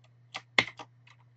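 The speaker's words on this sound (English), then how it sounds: "I'm going to press Alt F9 on the keyboard" Keys on a computer keyboard are pressed, a few quick soft plastic clicks close by in a quiet room over a faint low hum.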